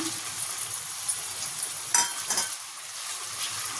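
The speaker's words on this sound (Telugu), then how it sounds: "నూనె వేడయ్యాక కట్ చేసి పెట్టుకున్న ఉల్లిపాయలన్నీ వేసుకొని మంచిగా ఎర్రగా ఫ్రై చేసుకుందాం" Chopped onions fried in about four spoonfuls of hot oil while cooking an egg dum biryani, giving a steady, continuous sizzle with brief louder bursts as they are stirred.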